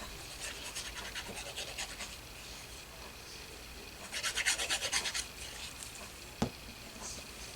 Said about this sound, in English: I keep going back to rub that side to see if it will stick.